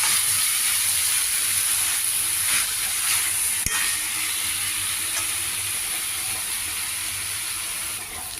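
Pumpkin and broad bean pieces sizzle steadily in a hot pan while being stirred together, a continuous close frying hiss with occasional faint scrapes and a single sharp tap, no voices.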